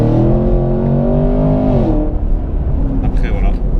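Chevrolet Camaro SS with a 453 hp V8 pulling hard, a loud steady engine drone with rising harmonics that shift and settle midway, heard from inside the car with talk over it.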